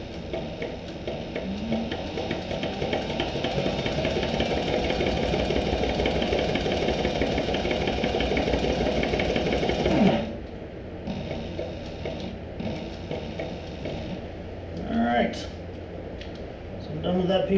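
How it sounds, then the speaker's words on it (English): A sewing machine stitches a cork fabric clutch near the bottom edge, running with a steady mechanical whir and rapid ticking for about ten seconds, then stopping into quieter handling sounds, with a voice talking over it. "And I'm just sewing about 3/16 of an inch or so from the bottom."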